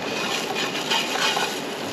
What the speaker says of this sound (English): All right, we're sizzling.